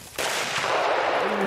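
One sharp, loud shotgun blast goes off close by on a bird hunt near a pond, a sudden crack followed by a brief rumbling tail.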